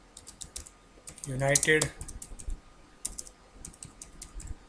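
Rapid clicking keystrokes on a computer keyboard come in bursts, with a dense flurry in the middle and lighter taps after it, while a voice speaks briefly.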